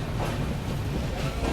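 A nearly empty Murdeshwara–SMVT Bengaluru Express passenger train rumbles along the rails, a loud close steady roar with faint rhythmic clatter from inside a coach.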